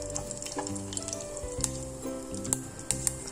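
Sesame seeds frying in a pan, with a quiet, crackly sizzle and scattered small pops over a few seconds, and some low tonal hum beneath.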